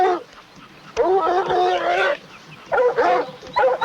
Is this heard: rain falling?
no